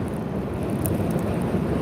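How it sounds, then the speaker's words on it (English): Steady, low rumbling wind buffets the microphone throughout, a constant broadband roar with no speech. "Man, it's windy here."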